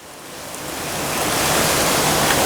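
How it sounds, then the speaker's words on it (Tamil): A medicinal milk mixture strained through a filter, a continuous rushing pour of liquid that builds from moderate to loud and holds steady, close by and with no talking. "கொஞ்சம் கொஞ்சமாக பார்த்தீங்கன்னாக்கா இது மாதிரி வடிகட்டணும்"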